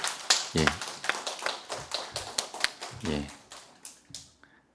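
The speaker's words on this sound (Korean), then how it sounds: "우리 박수로 감사합니다" Church congregation at a Wednesday service clapping in thanks for a visiting pastor, scattered sharp claps in uneven bursts, close and fairly quiet, with voices speaking over them.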